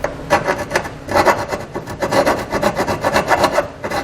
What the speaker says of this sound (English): So we're just going to file that out until we can get this to fit.